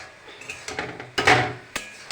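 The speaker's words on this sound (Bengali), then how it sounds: "ঢাকনাটা খুলে আমি আবার একটু নাড়াচাড়া দিয়ে নেব।" A lid is lifted and bottle gourd is stirred in a cooking pot, giving a few separate metallic clinks and scrapes, close and fairly quiet, with short pauses between them.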